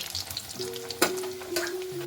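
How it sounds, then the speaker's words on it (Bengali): Bread chicken rolls fry in oil over low heat with a soft, steady bubbling sizzle, joined by a couple of brief clinks near the middle. No one speaks. "লো জোরে এটাও আস্তে আস্তে ভাজতে হবে"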